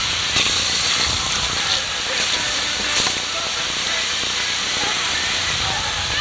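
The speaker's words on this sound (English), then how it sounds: "So this water is boiling." Water at a rolling boil gives off a steady, dense hiss of steam, loud and unbroken, with faint clicks and pops scattered through it.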